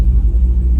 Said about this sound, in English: The truck sounds better too now if the exhaust is dumped instead of being all the way out the back